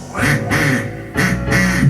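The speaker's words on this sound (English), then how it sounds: "Ducks, ducks." Ducks give two strong bursts of loud, nasal quacking, each lasting about half a second and separated by a short pause, heard close up with a rough, buzzy tone.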